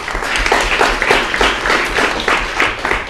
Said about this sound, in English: We need a much heavier applaud.